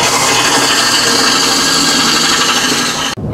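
A wooden blank spins on a lathe while a tool rounds it, giving a loud, continuous rough scraping and rushing hiss that stops abruptly at the end.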